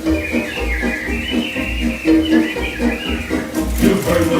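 Animatronic birds in Disneyland's Enchanted Tiki Room sing and whistle in a rhythmic, chirping chorus over bouncy music, loud and lively throughout.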